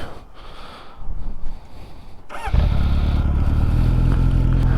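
A Honda Nighthawk motorcycle engine idles during an idle adjustment, starting up loud and close after a quieter stretch and then holding a steady, throbbing low rumble.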